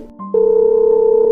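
A telephone dial tone before a call is placed: a brief click, then a steady, unbroken electronic hum that holds at an even level, close and clear, with no voices over it.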